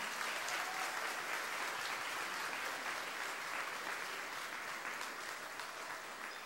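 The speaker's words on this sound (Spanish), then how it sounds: "Un fuerte aplauso para las solistas" Sustained audience applause for the soloists at a children's show, dense and steady throughout, with a faint voice underneath.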